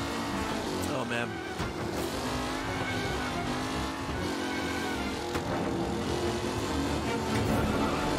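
Car driving through bushland in the video game Mafia Definitive Edition, a continuous engine drone with rising and falling revs, under a person talking throughout.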